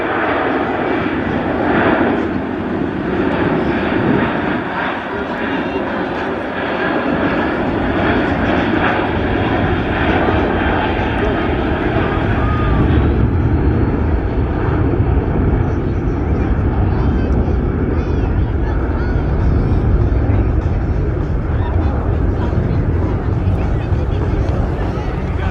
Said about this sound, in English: So listen to the power of these engines now as it slowly flies by and then powers up.